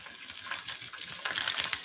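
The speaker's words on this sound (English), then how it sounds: "Nothing like a sizzle." Sausage sizzles in a frying pan with a bright, crackling hiss and scattered small pops that grow busier toward the end, close up and without talk.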